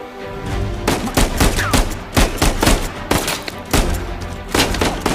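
Rapid gunfire from the third-person shooter Metal Gear Solid 5, with repeated loud bursts and single shots spaced through the clip over a low game background rumble.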